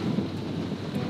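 Rain pours steadily with low rumbling thunder during the first storm in a Borneo jungle, a dense continuous wash of sound with no voices.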